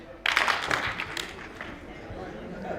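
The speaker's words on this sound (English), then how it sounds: "If you can hear me, clap once." A dinner audience at an anniversary gathering answers with a sudden burst of clapping that fades quickly into murmuring room noise.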